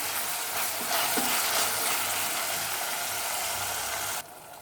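Tomato pieces frying with ginger and garlic in a pan for mutton leg sherwa, a loud, steady, close sizzle that holds throughout, then drops suddenly near the end.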